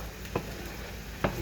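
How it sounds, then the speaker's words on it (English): Oil and margarine sizzle in a pan while fish fried rice cooks, a soft steady frying hiss broken by two brief louder scrapes of stirring, with no voices. "I'm going to have to add some more oil, and of course y'all know I'm adding margarine to this as well"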